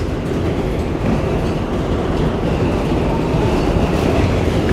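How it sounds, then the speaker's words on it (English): A New York City local subway train runs on elevated tracks with a loud, steady rumble and rattling roar of the cars throughout, no voices heard. "No, because we are on the local train."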